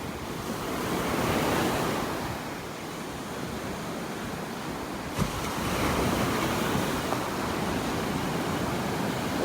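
Steady roaring surf on a beach in North Naples, Florida, with broad rushing noise and some wind, waves swelling and crashing continuously, no voices.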